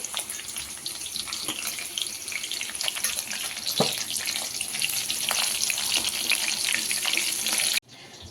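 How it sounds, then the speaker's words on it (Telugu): Curry leaves and green chillies fry in hot oil with a dense, continuous crackling sizzle and sharp pops, close and fairly loud, until it cuts off abruptly near the end. "ఈ ఆయిల్ అన్ని కొంచెం కరివేపాకు, పచ్చిమిర్చి ఫ్రై చేసుకోవాలండి."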